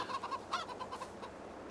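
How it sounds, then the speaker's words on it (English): A rooster clucks in Farming Simulator 22, a handful of short, bright clucks in a quick series over roughly the first second, then fading into softer background game ambience. "And a rooster, because we always get a rooster."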